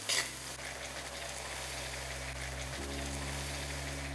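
Garlic paste sizzling with fried onions in a pan while making chhyachra with fish head, a steady, moderately quiet frying hiss with a brief stir near the start and a low hum underneath.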